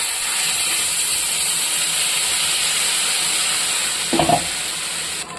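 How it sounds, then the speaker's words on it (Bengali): Water hitting a hot pan of Malabar spinach and pumpkin curry with spices and chillies gives a loud, steady sizzle and hiss throughout, with a brief stirring clatter near the end. "এবার পরিমাণ মতন একটু জল দিয়ে দেবো"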